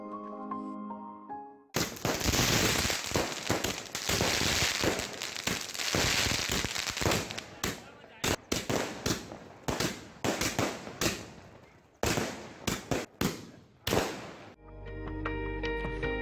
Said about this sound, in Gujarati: ફટાકડા ફોડીને આતશબાજી કરાઈ